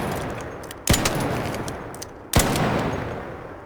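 Two sharp gunshots from a weapon in the video game Arc Raiders, spaced about a second and a half apart, each ringing out into a lingering reverberant tail over a steady background rumble.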